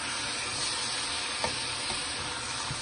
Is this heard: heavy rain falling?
no